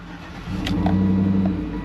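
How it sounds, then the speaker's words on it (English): A GM Chevrolet Tahoe's 5.3-liter V8 turns over and catches, then settles into a steady mid-pitched idle hum, close and fairly loud, with no voices. "Starting the engine."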